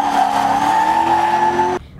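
A drift car, set up for a 12-year-old driver, runs loud and close with a steady engine drone and a sustained tire squeal, then cuts off abruptly near the end.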